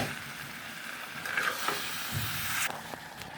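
Washed, cut country rooster meat hitting a hot pan, giving a soft, moderate sizzle with a few scraping and clattering stirs, close by and with no talk.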